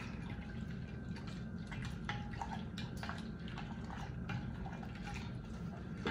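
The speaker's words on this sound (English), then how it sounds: "We're gonna stir all this up." Soap bubble solution being stirred together on a tabletop, with soft liquid sloshes and faint drips over a steady low background hum, fairly quiet and continuous.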